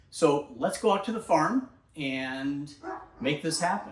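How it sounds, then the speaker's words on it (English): A dog barks a few times close by, its short yaps mixed in among someone speaking outdoors on a farm near a clover field and beehives. "pardon the barking dog"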